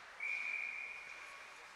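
A single referee whistle blows at a high school ice hockey game, one sharp sustained blast of about a second over quiet arena ambience.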